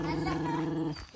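A large dog lets out a close, sustained low growl for about a second before it breaks off abruptly.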